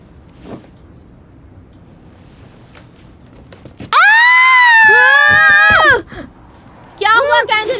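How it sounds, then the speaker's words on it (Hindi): A girl screams loudly and shrilly for about two seconds, then breaks into another piercing scream after a short pause, following quiet background shuffling. "चिल्ला क्यों रही हो?"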